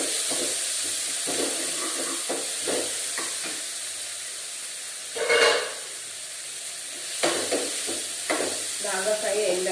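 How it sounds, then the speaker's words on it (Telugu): Potato curry frying and being stirred in a pan, a soft steady sizzle with scraping stirs and a brief louder burst of hiss, while someone talks over it. "కర్రీ చూద్దాం, ఫ్రై అయింది."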